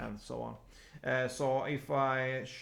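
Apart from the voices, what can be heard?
No everyday noise stands out behind the speech.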